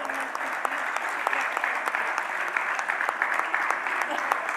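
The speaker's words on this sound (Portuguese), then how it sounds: "Uma salva de palmas para a Casa do Artista." Audience applause at a public municipal assembly meeting held at the Casa do Artista, a dense, even patter of many hands clapping steadily throughout, moderately close.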